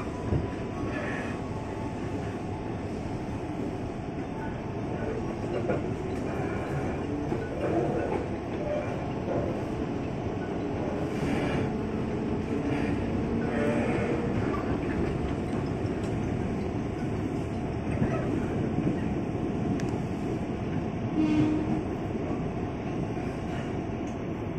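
An Indonesian KRL Commuter Line electric train rumbles past steadily near a station with a continuous low roar and faint clattering, loud and sustained throughout, with distant voices now and then.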